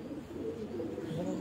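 Pigeons cooing on a rooftop loft in Multan, a low, soft, rolling coo repeated under a faint background hum, close but quiet.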